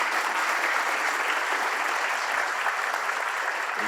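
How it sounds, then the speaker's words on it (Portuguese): An audience at a business leaders' meeting applauds, a dense, even wash of clapping that holds steady for a few seconds without any talk over it. "Posso pedir mais uma salva de palmas para os três?"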